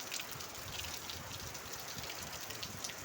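Rain pouring during a storm in Chennai, a faint steady hiss of falling water and patter on surfaces, continuous and even throughout with no voices.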